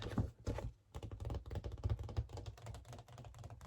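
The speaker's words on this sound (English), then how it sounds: "Tap on the paper a bit." Fingertips tap on a record's paper sleeve in quick, irregular bursts, a close, soft papery patter that runs continuously with no voice.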